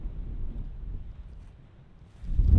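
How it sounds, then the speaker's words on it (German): Strong wind at a highline anchor high in the Alps, heard as a low, rumbling buffeting against the microphone that eases briefly, then gusts louder at the end. "Schauen wir mal, ob der Wind noch nachlässt."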